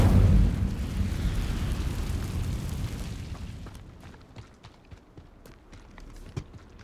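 Incendio fire spell in Hogwarts Legacy: a loud whooshing blast of flame right at the start that roars and slowly fades, followed by scattered crackles and small impacts.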